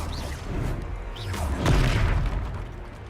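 A Confringo fire spell explodes in the Hogwarts Legacy video game: a swooshing cast swells into a deep, booming blast, loud and close, then a rumbling tail.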